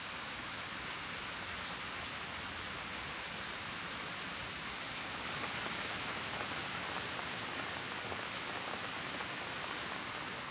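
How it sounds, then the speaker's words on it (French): Steady, incessant rain pattering on surfaces during Kyoto's June rainy season, a dense continuous hiss that fills the whole clip without pause, with no voices. "Derrière le clapotis incessant de la pluie"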